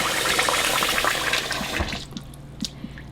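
Very cold water running from a tap to fill a basin for soaking a wig, a broad steady gush that fades after two seconds into softer trickles and drips.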